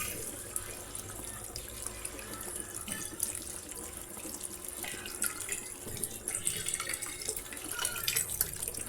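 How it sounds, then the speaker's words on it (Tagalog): Tap water running into a pot while cooking pancit, a steady splashing stream that grows slightly fuller as it fills, close and fairly quiet with no talking. "Lagyan natin ng tubig."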